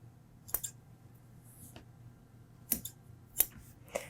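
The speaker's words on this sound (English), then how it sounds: "Trim your threads." Scissors snip threads on a sewn fabric mask in a quiet room, about five sharp, close cuts spaced irregularly, with a soft background hum.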